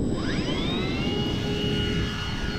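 Loud, steady drone of a Dynam P-61 Black Widow, a 1500mm twin-motor 4S electric RC warbird, passing overhead as its motor whine sweeps in pitch, heard close and alone without talk.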